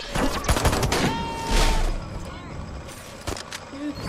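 Gunfire aimed at the player in the Destroy All Humans remake video game: scattered shots and bursts amid game effects, with voices talking over them.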